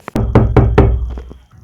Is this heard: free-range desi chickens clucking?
no